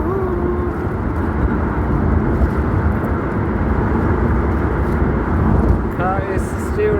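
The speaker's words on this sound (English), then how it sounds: "Car is still running fast because here is it on the main road, on the highway." Car speeding along a wide main highway on the way to a waterfall near Hat Yai, with a steady broad road and engine rumble throughout and a voice talking over it.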